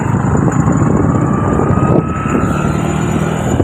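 A car travels at speed on a newly built road, a loud steady roar of engine, tyres and wind rushing past, heard from inside the vehicle without a break.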